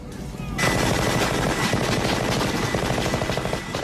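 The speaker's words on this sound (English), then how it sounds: "Jesse had that huge Gatling gun" Handheld Gatling gun from the film Predator firing a continuous, loud, rapid burst after a brief quiet start, a dense roaring rattle that holds steady to the end.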